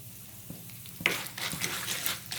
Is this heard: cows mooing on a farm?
no